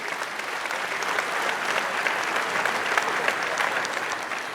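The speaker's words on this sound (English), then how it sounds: "I think we can be a bit more generous with our round of applause." Sustained audience applause fills a forum hall, a dense, steady clatter of many hands clapping at even loudness throughout with no voices over it.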